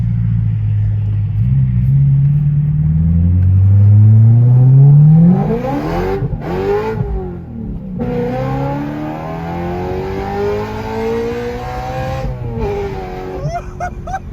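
A straight-piped BMW E92 M3 with a very loud exhaust revs hard. Its deep roar climbs in pitch, cuts off briefly, then revs again in several harsh bursts, heard close up with no talking.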